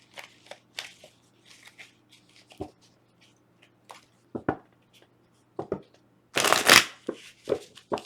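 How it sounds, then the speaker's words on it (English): Tarot cards being shuffled in short bursts of papery riffles and taps, close by, with a louder, longer riffle near the end. "let's give this a good shuffle again"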